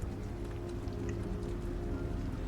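Steady rain falls in Detroit: Become Human, a dense, even patter with scattered droplet ticks, continuous and moderately loud with no voices.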